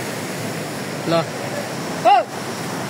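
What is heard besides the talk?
large mountain river rushing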